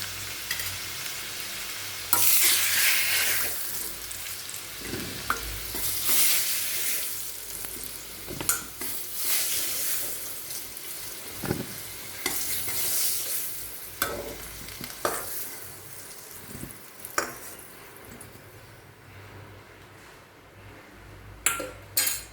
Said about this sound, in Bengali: কচুগুলো লবণ আর হলুদ দিয়ে ভেজে ভেজে নিয়েছি ভাজা হয়ে গেছে